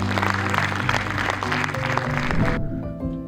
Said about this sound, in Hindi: आप लोगों के लिए एक बार अपने लिए जोरदार तालियां बजाएं।